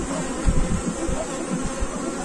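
Honeybees buzzing steadily around an open beehive during an inspection, a close, continuous insect drone with soft handling bumps and no talking.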